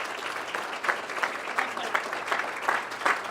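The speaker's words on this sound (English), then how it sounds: "I'd like for you all to give her a nice round of applause" An audience at a county budget address gives a round of applause for Lori Blake, a moderate, steady patter of many hands clapping with slight rhythmic swells, heard alone without talk.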